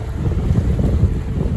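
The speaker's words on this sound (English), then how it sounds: "So I've got the engine going." Inboard engine of a small trailer sailboat running at dusk on the River Deben, a low rumbling drone mixed with wind buffeting on the microphone, steady and close.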